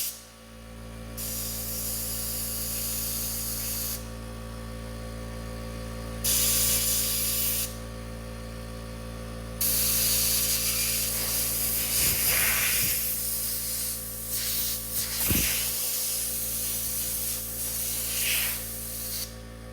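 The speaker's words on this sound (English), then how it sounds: "Okay, now blowing the water off." Compressed air blasts water off a gas grill's flame cross member in several long, loud hissing bursts separated by short pauses, over a constant low hum.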